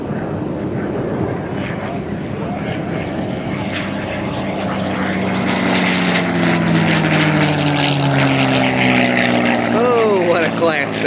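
A P-51 Mustang with a Packard engine flies past at the 2024 First State Airshow. Its loud, rumbling propeller drone builds steadily and shifts in pitch as the fighter sweeps by.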